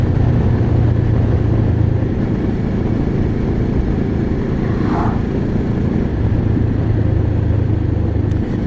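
A Keeway motorcycle engine runs with the throttle off, giving a steady loud drone with wind rush during the ride and no clear rise or fall in revs.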